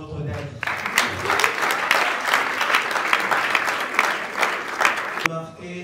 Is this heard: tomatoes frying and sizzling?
no